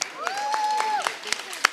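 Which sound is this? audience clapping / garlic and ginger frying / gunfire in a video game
audience clapping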